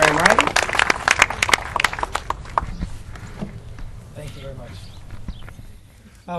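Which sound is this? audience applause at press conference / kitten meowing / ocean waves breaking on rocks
audience applause at press conference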